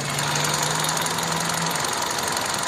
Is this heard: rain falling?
no